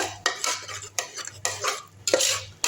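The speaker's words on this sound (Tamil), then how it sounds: "நல்லா கிண்டி விட்டுருங்க" Drumstick kurma is stirred in a cooking pan with a metal spoon, producing rhythmic scraping strokes about every half second over a soft sizzle, close and clear with no talk.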